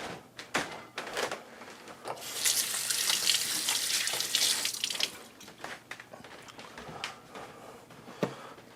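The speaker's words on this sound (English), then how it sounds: "I'm just going to wash my hand." Tap water runs into a sink while hands are washed, a steady splashing rush that swells through the middle and then breaks into scattered drips and handling knocks.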